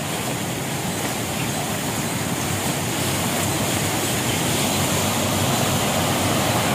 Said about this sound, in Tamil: கீழே அருவி ஓடுற சவுண்டு கேட்குது.